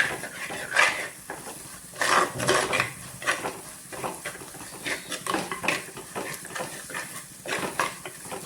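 A spice mixture with pepper and fish masala for Thrissur-style fish curry is stirred in a pan, giving repeated clinks and scrapes of a utensil against metal in an irregular rhythm at close range.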